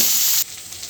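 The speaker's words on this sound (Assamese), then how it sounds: "পিঁয়াজখিনি অলপ ৰঙচুৱাকৈ ভাজি ল'ব লাগিব" Onions frying in a pan for a homestyle mutton curry give a loud, steady sizzle that abruptly drops to a quieter crackle midway through the brief moment.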